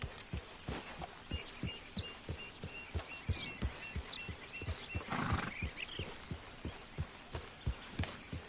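A horse is ridden slowly in the video game Red Dead Redemption 2, with steady, evenly spaced hoof clops at a walking pace, quiet and continuous.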